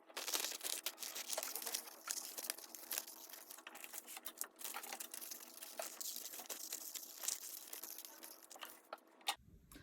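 Scissors cut out paper shapes with soft, irregular snips and crinkles, faint and close, in an otherwise quiet room.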